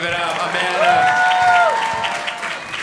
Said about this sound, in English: Clap it up for Amanda.